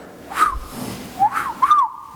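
A man whistles a short imitation of bird song, three brief rising and falling notes, clear and close.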